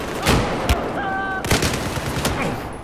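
Light machine gun fire in Battlefield 4, heard as loud bursts of rapid shots with sharp cracks and booms, mixed with other game sounds and short tones.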